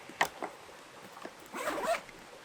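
A zipper being drawn on a Shimoda Action X50 camera bag: short rasping pulls, a quick one early then a longer drag later, fairly close and quiet.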